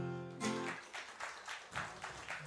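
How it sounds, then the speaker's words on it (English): Live audience applause for a folk performer at a radio show, brief and moderately faint, rising after a held musical note fades and continuing as scattered clapping. "Big round of applause for Bailey."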